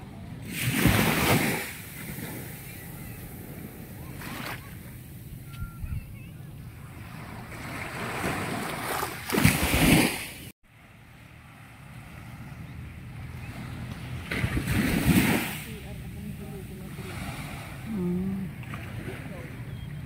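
Waves wash up on the seaside shore with a steady rush of wind across the microphone, surging loudly twice and then easing back, while people talk faintly in the background.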